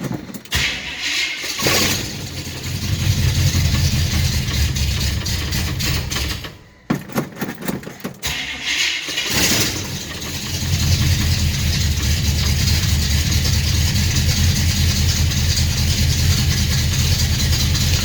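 A car engine with aftermarket headers and a leaky exhaust cranks over, sputters and catches on a cold start, then settles into a loud, rough, steady idle close by.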